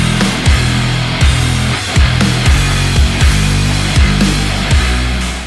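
A remake of a song, heavy and dense with deep pulsing bass hits landing in a steady rhythm under a bright, wide wash of sound, loud and continuous.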